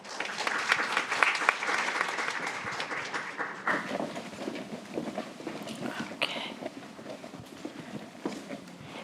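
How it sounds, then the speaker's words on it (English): A large audience applauds steadily for about nine seconds to welcome a speaker at the 2019 Harvard China Education Forum, a dense, even wash of many hands clapping in a hall with no clear voice on top. "Please join me with a round of applause to welcome Dr. Christine Rich."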